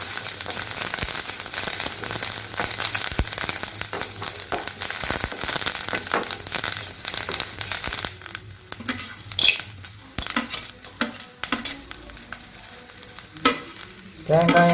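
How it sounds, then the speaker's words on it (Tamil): Mashed raw plantain mixture with curry leaves is stirred and sautéed in a pan: a steady sizzle under repeated scraping and clinks of a spoon against the metal, close and continuous, with no talking. "எல்லாத்தையும் அதில் சேர்த்து நல்லா வதக்கிக்கணும். கருவேப்பிலையும் அதோட சேர்த்துக்கிறோம்."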